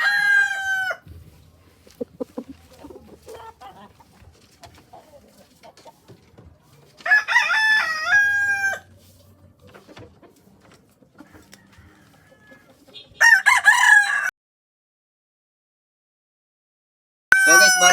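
Fighting roosters crow on a gamefowl farm. Three loud, near crows ring out in separate bursts with quiet gaps between them, and a fourth begins at the very end.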